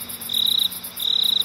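A shrill insect buzz pulses in two sustained bursts, close and steady, with a faint high trilling background.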